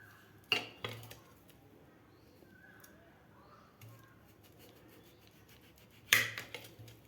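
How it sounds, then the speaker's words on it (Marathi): A knife slices potatoes thinly on a board, giving a few sharp, isolated knocks separated by long quiet gaps. "अशा प्रकारे पातळ पातळ आपल्याला काप करून घ्यायचे आहेत"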